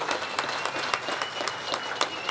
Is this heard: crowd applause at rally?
yes